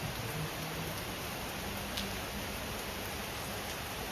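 Heavy rain pours down in a constant, uniform roar, a thick hiss that stays level throughout with no other sounds standing out.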